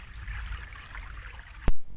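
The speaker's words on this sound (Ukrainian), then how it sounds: "Що ви уявляєте, коли чуєте звук струмочка?" A babbling brook in spring, a soft continuous trickle and gurgle of running water close by, ending in an abrupt thump-like cut.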